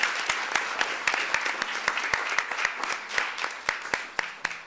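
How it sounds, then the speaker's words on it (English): An audience at a school district board open session claps steadily for several seconds, a dense, moderately loud round of applause with sharp individual claps standing out, and no talking. "Let's give them a big round of applause."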